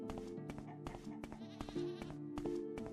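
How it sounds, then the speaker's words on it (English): Goats bleat in the Skyrim video game at a farmstead, several wavering, nasal calls overlapping in quick succession, fairly close and steady over a faint game ambience, with no talk. "Hello, goats."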